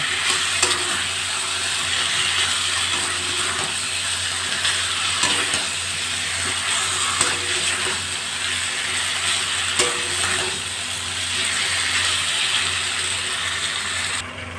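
Potato and pumpkin stir-fried in a pan over a high gas flame, a constant loud sizzle with repeated close scraping of the spatula in a steady rhythm throughout.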